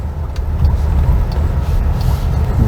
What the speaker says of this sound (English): Stepping on the power is very linear, very smooth, and buttery.